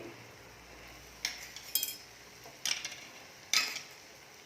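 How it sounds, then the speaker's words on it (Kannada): Kadai paneer with fresh cream stirred in a non-stick pan: a few sharp spoon scrapes and clinks at irregular intervals over a soft hiss, close and quiet. "ಇದನ್ನು ಹಾಕಿ ಮಿಕ್ಸ್ ಮಾಡಿಕೊಡಿ ಚೆನ್ನಾಗಿ"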